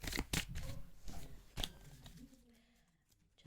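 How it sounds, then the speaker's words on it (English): Tarot cards are shuffled close up in a series of quick riffling bursts and soft slaps, then quiet down toward the end. "Just let me shuffle it a bit."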